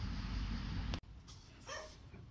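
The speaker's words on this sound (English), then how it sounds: "My dogs are still barking" Pet dogs bark at home, one short, fairly faint bark or yelp near the end, after a sharp click and over a steady background rumble.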